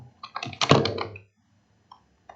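Keys clatter on a computer keyboard while typing in a word processor: a quick close burst of clicks, then silence broken by two faint taps.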